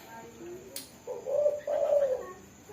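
A spotted dove (tekukur) coos in a short low phrase of two rising, hollow notes. The call is moderately close over steady background hiss, with no voices.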